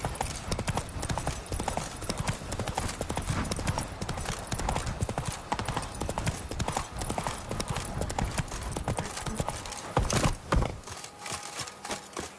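Roach, the horse in The Witcher 3, gallops with fast, continuous hoofbeats that drum loudly and evenly throughout, briefly heavier near the end, with no voices heard.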